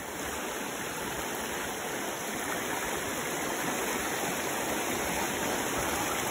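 Rushing water from a waterfall at Templer Park near Kuala Lumpur pours continuously, a loud, steady hiss filling the whole stretch without any voices.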